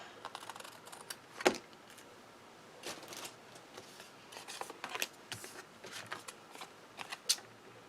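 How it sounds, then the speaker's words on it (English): Scissors trim adhesive tape along the edge of a handmade card front, producing a few short, crisp snips and light paper rustles that sit close and quiet, with no talking. "and then trim it."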